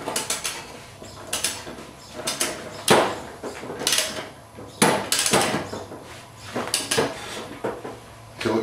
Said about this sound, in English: Once we heard the click, we know it's fully tightened.